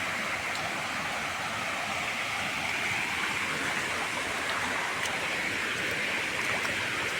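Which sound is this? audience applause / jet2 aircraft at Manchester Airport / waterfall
waterfall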